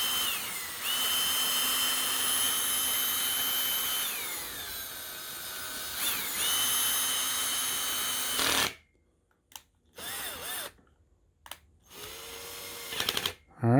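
An Atwood Levelegs leveling jack motor whines steadily with shifting pitch for about eight seconds, then cuts out and gives a few short, intermittent bursts before stopping, close and fairly loud.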